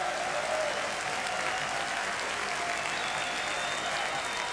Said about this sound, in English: Now clap your hands one more time for Jesus and give him the praise he deserves.